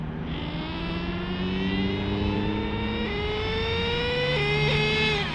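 An HPI Savage GT-6XL nitro RC truck with a modified LRP .32 engine and Raptor pipe makes a continuous, high-pitched buzzing whine that climbs steadily in pitch, with small dips as the revs change, and no talking.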